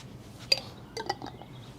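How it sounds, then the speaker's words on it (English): A lid is fitted onto a glass jar half filled with lighter fluid, giving a sharp clink followed by a cluster of softer scrapes and taps as it is twisted on, close and fairly quiet. "Now I'm going to put the lid on"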